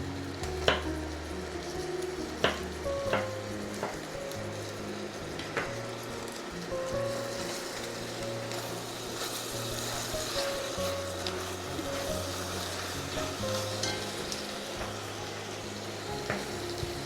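Chicken meat sizzles in a pot for paprikaš as the heat is turned up to cook off its water, a steady crackle with occasional clinks and stirring knocks, close and fairly quiet.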